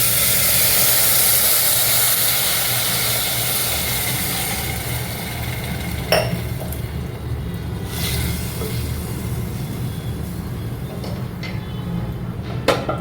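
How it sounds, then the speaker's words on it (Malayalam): Boiling water pours into broken wheat for payasam in a steady, close hiss that slowly fades, followed by a few sharp clinks of utensils. "പച്ചവെള്ളം ഞാൻ ഒഴിക്കുന്നില്ല, തിളച്ച വെള്ളം ഇതിലേക്ക് ഒഴിക്കുകയാണ്"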